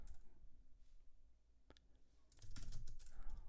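Quiet, scattered keyboard clicks, then a denser burst of rapid typing in the second half, close and fairly soft.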